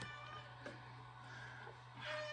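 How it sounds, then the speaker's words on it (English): A pet cat meows indoors, a few short, soft cries spread out over a steady electrical hum, fairly quiet and close. "Oh, my cat's here"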